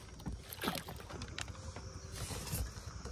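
A boat with an engine is rowed by hand on a river in the Sundarbans, with soft splashes and knocks of the oars at irregular intervals over faint wind and water, fairly quiet and close.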